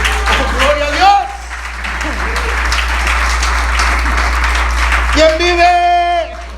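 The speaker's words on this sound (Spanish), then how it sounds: "Alguien aplaude al Señor en esta mañana." A church congregation at a Spanish-language sermon bursts into several seconds of dense applause, framed by a preacher's amplified voice before and after it.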